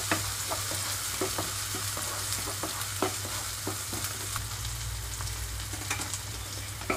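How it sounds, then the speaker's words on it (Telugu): Ginger garlic paste fries with onions in a pan on low flame for dondakaya masala curry, giving a steady soft sizzle with occasional scraping stir clicks, close and continuous with no talking. "ఇది కూడా 1 నిమిషం పాటు పచ్చి వాసన పోయేదాకా లో ఫ్లేమ్లో ఉంచి వేయించుకుంటున్నాను."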